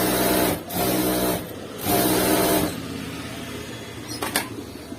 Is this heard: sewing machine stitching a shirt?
yes